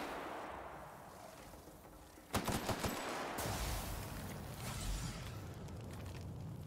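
A quick burst of several sharp gunshots rings out in The Outer Worlds while shooting barrels inside a Mantisaur hive, following a quieter ambient stretch and then trailing into rumbling, clattering echoes.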